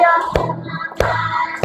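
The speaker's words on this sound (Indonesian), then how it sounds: "ya sambil tepuk tangan lagi" Three sharp hand claps land about two-thirds of a second apart, keeping a steady beat along with a sung tune during a classroom lesson.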